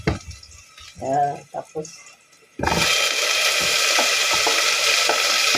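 Onion sautéing in a pan for pork menudo hisses in a loud, steady sizzle that starts abruptly and continues, following a short stretch of speech and light clatter.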